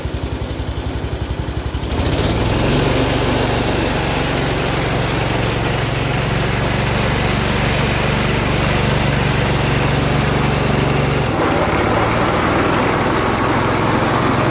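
1980s Cub Cadet lawn tractor with carburetor trouble runs its small engine on a test run, a loud steady close drone that kicks up sharply after a couple of seconds, holds, and dips briefly near the end.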